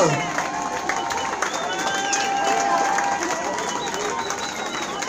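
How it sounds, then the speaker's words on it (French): A crowd of spectators at the Bouzigues trail race claps and cheers steadily, a continuous wash of applause with scattered shouts and background chatter throughout. "À vous d'applaudir."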